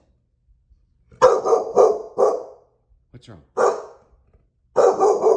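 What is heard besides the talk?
dog barking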